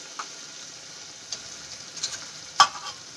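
Faint, steady sizzle of turmeric and spices frying in oil in a pressure cooker, with a few soft scrapes and taps of a spoon stirring.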